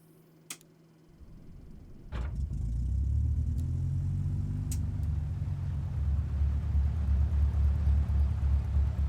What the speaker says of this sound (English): Always was impressed with the sounds of this aircraft. It definitely sounds like a Bulldog.